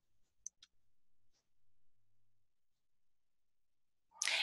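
Mouse clicks on a preview button in iBooks Author software: a few soft, close clicks spaced apart in a quiet room, followed by a sudden louder burst of noise at the very end.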